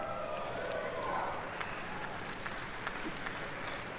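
Applause from a large audience at the BlizzCon 2023 opening ceremony, a steady broadband roar of clapping filling the hall throughout.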